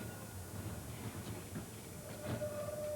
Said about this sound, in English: if you stand by the side of a tram track waiting for a tram, sure enough, a tram will come along